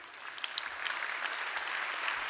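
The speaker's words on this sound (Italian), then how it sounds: "Lo accogliamo con un applauso." An audience at a business association's general assembly applauds as a speaker comes to the podium, with a steady, moderately loud patter of many hands and a few sharper claps near the start.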